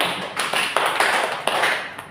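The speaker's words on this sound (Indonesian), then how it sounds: "beri tepuk tangan buat kedua temannya" Students in a micro-teaching class clap for two classmates, a dense, scattered patter of many hands filling the room with no voices over it.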